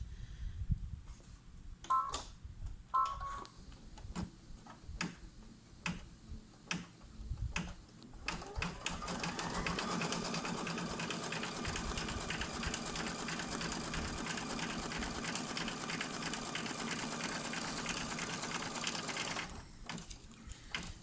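After a few scattered ticks and taps, a sewing machine stitches a snap tab wallet in one long steady run of rapid, even clatter, then stops near the end.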